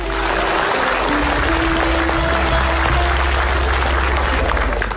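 Studio audience applause on a comedy talk show, a dense, loud wash of clapping that stays steady across the whole stretch with a low crowd rumble beneath.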